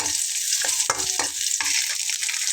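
Chopped onion and tomato fry in a pan with a steady, close sizzle while a spatula scrapes and stirs in irregular strokes. No one speaks.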